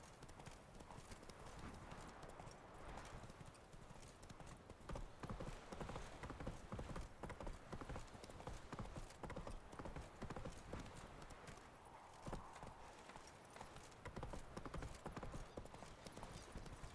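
Horses in the video game The Witcher 3 snort and blow heavily amid steady hoof clip-clop, with a brief whinny; the sounds are fairly quiet and continuous throughout.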